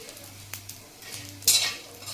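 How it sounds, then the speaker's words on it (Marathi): Edible gum (dink) frying in ghee in a wok for laddoos gives a soft steady sizzle with a couple of light spoon taps and a brief louder scrape near the end, close and short. "डिंक मी सर्व तळून घेतलेलं आहे"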